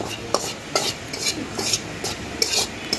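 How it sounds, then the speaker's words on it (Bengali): Sattu gram flour dry-roasting in a pan, rhythmic scraping strokes of a spatula across the pan bottom repeating about every half second over a faint sizzle, with no voices. "এরকম করে ছাতুটাকে ভেজে নিতে হবে"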